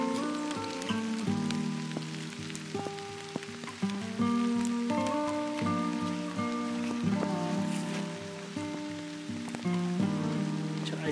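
Heavy rain pours steadily onto a wet outdoor surface in a constant close wash of patter, with a tonal hum and scattered drips layered over it for the whole stretch and no voices.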